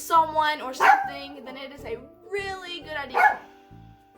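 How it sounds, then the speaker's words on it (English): A dog barks in a couple of sharp, loud bursts indoors, breaking in over a person who keeps talking steadily close to the microphone. "that was my dog"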